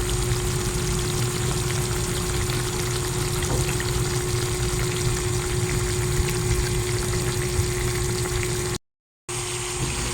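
Steady pouring water flows continuously into adobo simmering in a pan, a constant rushing stream with a low hum underneath that cuts off abruptly near the end before the pouring resumes.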